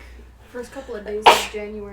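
One sharp, loud sneeze bursts out in the middle of casual conversation, with people talking before and after it.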